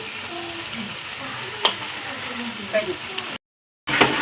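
Ground spices such as coriander powder and turmeric fry in oil for a chicken gravy, a close, even sizzle with light stirring clicks before a brief cut to silence and a short return.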